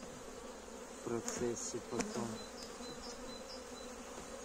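Honeybees buzz around a beehive frame in early spring, a close, steady droning hum with a few louder passing bees, while someone speaks briefly over it.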